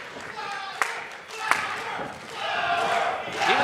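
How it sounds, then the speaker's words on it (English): A crowd at a wrestling event cheers and shouts loudly throughout, with a couple of sharp thumps or claps and a commentator talking over the noise. "he threw roses to the crowd, and they are strongly behind Kerry"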